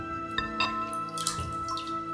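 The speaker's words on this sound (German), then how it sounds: "Wasser abgießen und herausdrücken." Water is poured off blanched broccoli, splashing and trickling briefly, with a few drips and sloshes, fairly quiet and close.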